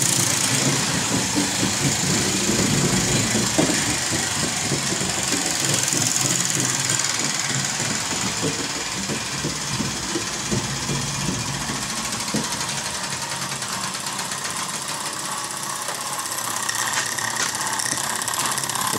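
An engine runs loud and close with a steady, rough mechanical chug that holds fairly even throughout, with no voices over it.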